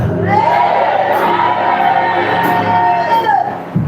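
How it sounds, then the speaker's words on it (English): A church congregation at an evening session shouts together, a loud sustained wash of many voices crying out in unison for several seconds, close and filling the space. "If you are shouting amen, let your amen be louder."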